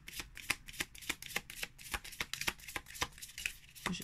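Soul Shadow trading cards, matte-finished and fairly stiff, shuffled hand over hand, a quick run of crisp papery riffs and slaps in an irregular rhythm, close and alone.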